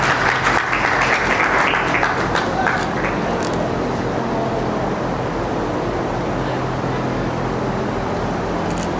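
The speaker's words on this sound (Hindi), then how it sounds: "तालियों से जोरदार स्वागत कीजिए" Welcoming applause from students at a national education awards ceremony, loud clapping at the start that thins into a steady wash with a low hum underneath.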